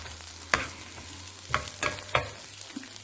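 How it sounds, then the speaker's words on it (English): Onions brown and sizzle in oil in a pan for beef stroganoff. A steady low hiss runs under four sharp utensil scrapes and taps as they are stirred. No speech. "Okay, so you're going to brown your onions."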